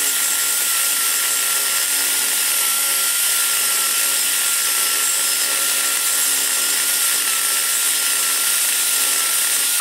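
Aluminum burrs on a rotary tool grind an aluminum intake guide on a big-block Chevy cylinder head, a loud, steady high-pitched whine held constant with no pauses or talking.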